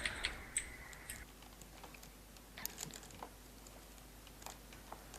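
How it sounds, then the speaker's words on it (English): Fast clicking on a loud, clacky computer keyboard during a Minecraft session, soft irregular taps with a few sharper clicks, close and fairly quiet with no voices. "I love your keyboard. Mine. Yeah, it's very noisy."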